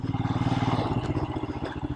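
A motorcycle engine idling or running at low speed with a rapid, steady thumping pulse and some clatter, close and fairly loud on a mountain road near the Hemis monastery.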